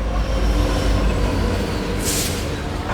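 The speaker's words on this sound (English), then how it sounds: "the train stopped and the doors wouldn't open" A Hong Kong train rumbles as it pulls into a station and stops, with loud steady wheel and carriage noise and a brief high hiss or squeal near the end.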